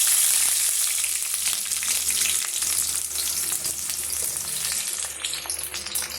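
Sliced onion frying in hot oil for a chicken gravy gives a loud, steady sizzle that crackles on without pause.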